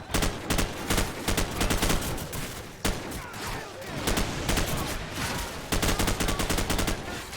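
Rapid bursts of gunfire from Call of Duty Modern Warfare, loud and close, firing in repeated volleys with short pauses between them, with game noise filling the gaps.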